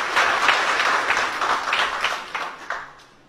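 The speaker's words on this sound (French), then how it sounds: "Vous pouvez l'applaudir." An audience at a speaking event applauds for a few seconds, a dense burst of clapping that swells and then fades away.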